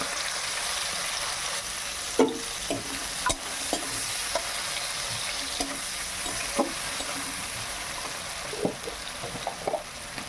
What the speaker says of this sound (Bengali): আমি পেঁয়াজ কুচি করে নিয়েছি, পেঁয়াজ আর টমেটোটা একসঙ্গে দিয়ে দিলাম।